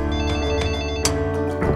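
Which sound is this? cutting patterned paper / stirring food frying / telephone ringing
telephone ringing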